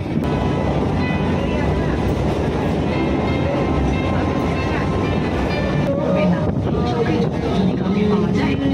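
A passenger train on a suburban line near Sonarpur rumbles steadily as it pulls away, a loud, close, continuous roar with faint rhythmic clatter and occasional talk mixed in.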